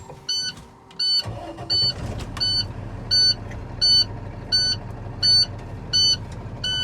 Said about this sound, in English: I'm going to start this truck and test them.